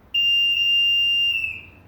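A single sustained electronic beep sounds from a Johnson Evinrude outboard remote controller during a wiring test, a loud steady tone lasting over a second before cutting off, alone in a quiet room.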